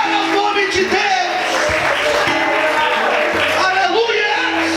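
Church congregation clapping and cheering in praise throughout, a dense continuous wash of applause mixed with shouting voices and singing.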